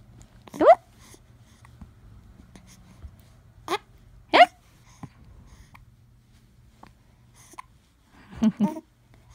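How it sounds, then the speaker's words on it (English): Several short, sharp hiccups from a young child, spaced irregularly with gaps between them, followed by a brief burst of babbling near the end. "Oh, hiccups."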